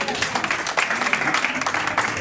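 A church congregation at a French-language worship service breaks into steady applause to acclaim Jesus, a dense, loud patter of many hands clapping with voices mixed in.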